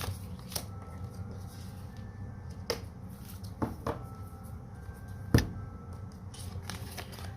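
Tarot cards being cut and handled, with quiet riffling and papery flicks and several sharp slaps of cards set down on a surface, close by with no talking.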